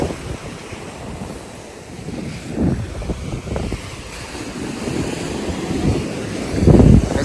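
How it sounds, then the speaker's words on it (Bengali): Strong wind buffets the microphone at a seashore while waves churn and surge, with louder rushes of surf breaking through the steady roar. "আজকে দেন কি ঢেউ, কি বাতাস,"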